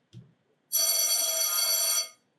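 A telephone bell rings loudly in one sustained, steady burst lasting over a second, preceded by a brief soft knock, with no one talking.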